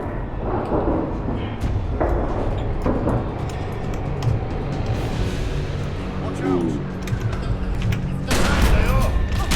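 Bursts of gunfire crackle through a busy, noisy scene with thuds and booms mixed in, while voices talk over the shooting.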